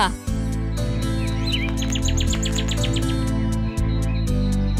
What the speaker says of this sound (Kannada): ಇದ್ರ ಹೆಸರು ಕಾಡು ಪಾರಿವಾಳ.